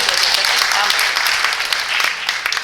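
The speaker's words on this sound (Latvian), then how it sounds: "Un paldies visiem par aplausiem, tiešām to ļoti novērtēju." Audience at a course opening event applauding, a loud, continuous round of clapping that stays even throughout with a few sharper claps standing out.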